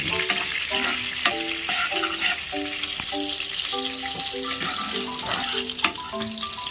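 Annatto seeds sizzle steadily in hot oil as they are stirred in a pan for a pork kare-kare sauce, with a constant frying hiss and faint scraping from the stirring throughout.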